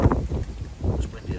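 Gusty wind buffets the microphone outdoors beside water at a carp-fishing swim, a rough, rumbling low roar that rises and falls throughout.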